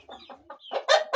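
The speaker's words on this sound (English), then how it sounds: "I have like 100 chicken" Chickens cluck on a small poultry farm of about a hundred birds, with short overlapping clucks and calls at close range, growing louder toward the end.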